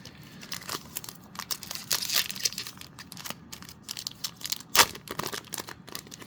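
A trading card booster pack, an EB-02 set release-day pack, is torn open with sharp crinkling foil rips and crunching, a few bursts in a row and one loud tear near the end, close and with no voices.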